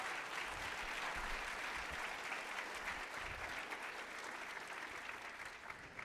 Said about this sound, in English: How about a round of applause for all the presenters and the Mercury Fund?